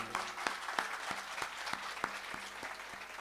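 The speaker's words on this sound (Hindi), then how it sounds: "हम उनके लिए जोरदार ताली बजाना चाहते हैं।" Audience applause for the hosts at a live Shrimad Bhagavat Katha religious discourse, heard as a faint, steady patter of clapping with a few sharper claps standing out at an even rhythm.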